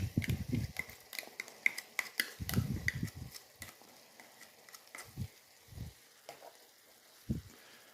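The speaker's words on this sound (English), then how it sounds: "Let's give it a stir." Chicken tikka chasni sizzles in a pan as a utensil stirs and scrapes it in irregular bursts, close and fairly quiet, with soft frying hiss between strokes.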